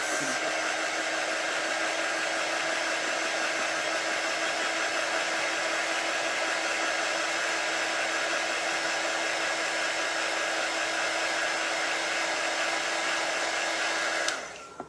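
A handheld dryer blows steadily and loudly over a chalk-paste craft project, a constant broadband whoosh with a faint tonal hum, running alone for about fourteen seconds before clicking off.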